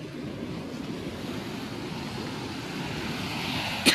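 Steady roar of surf washing onto a beach in Siargao, broad and continuous, with wind buffeting the microphone and a brief sharp knock at the end.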